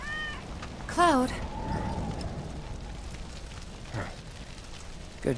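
A cat meows from about one to one and a half seconds into Final Fantasy VII Remake gameplay: a short, rising-and-falling mew heard clearly over a soft game ambience, with another faint mew near the start.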